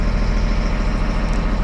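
A military truck fitted with a 12-volt 200-amp school bus alternator idles slightly above idle while still cold, a loud, close, steady low engine rumble with no talk.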